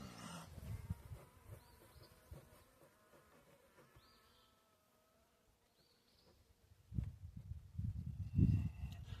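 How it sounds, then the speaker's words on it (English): Soft, continuous buzzing of many honey bees in a Layens-frame hive with occasional individual insects flying close, followed by some louder handling thumps and rustles near the end. "Quite a lot of bees in here."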